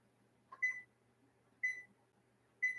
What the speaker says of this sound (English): I'm going to put this timer on for 15 minutes